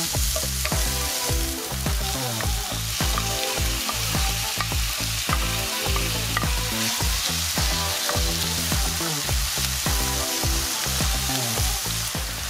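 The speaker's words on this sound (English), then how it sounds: "I'm gonna saute our onions, our garlic, and our tomato for about 3 to 4 minutes" Onions, garlic and tomato sauté in canola oil in a pan, a dense continuous sizzle and crackle with frequent stirring scrapes and clicks throughout, close and fairly loud with no voices.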